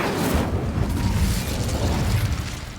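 A fire spell cast in Hogwarts Legacy rumbles as a dense, continuous whooshing roar with crackling pops, loud and close throughout, with no voices.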